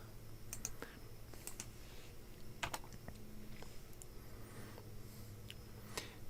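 A command typed on a computer keyboard: scattered sharp key clicks at an uneven pace, close by over a steady low background hum.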